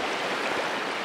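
A small stream in Simaldhap, Chitwan, flowing as a close, steady broadband burble of running water, brief and even, with no voices.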